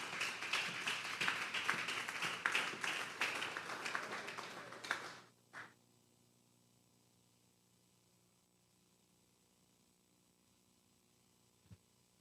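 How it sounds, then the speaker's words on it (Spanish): A congregation at a Sunday church service bursts into loud, sustained applause that fills the room for about five seconds, then cuts off abruptly into near silence, broken by one faint knock near the end. "Denle un fuerte aplauso pues al Señor."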